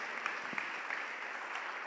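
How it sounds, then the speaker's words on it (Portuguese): A church congregation gives brief applause during an Easter resurrection sermon, a soft, steady patter of many hands heard from afar, lasting under two seconds. "Vamos aplaudir ao Senhor pela sua ressurreição."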